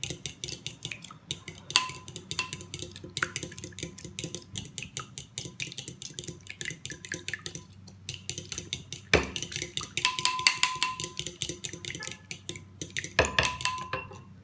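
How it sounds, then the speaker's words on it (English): A fork whisks pancake batter in a bowl with rapid rhythmic clinking and scraping against the dish, fairly close, in uneven bursts with a few sharper knocks. "take our little fork here and using circle-like motions, go ahead and just whisk everything together"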